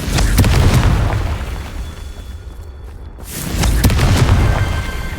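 Explosive Confringo spell cast in the Hogwarts Legacy video game, heard as two loud booming bursts, one at the start and another after a brief lull midway, with a continuous game soundscape rumbling underneath.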